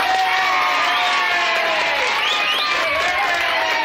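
Applause sampled from a 1971 comedy track: a loud, continuous crowd roar of clapping and cheering with whoops, set against sustained tonal lines from a music bed, with voices mixed in.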